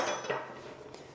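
A spoon clinks and scrapes against the side of a bowl in a brief burst of stirring a cake mixture with added cognac or rum, close and fairly quiet.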